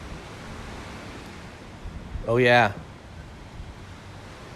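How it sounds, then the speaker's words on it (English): Soft ocean surf washes steadily at a beach in Mexico as a continuous low hiss, with a brief spoken voice briefly rising above it. "Hopefully you enjoyed the soft sounds of the ocean in the background."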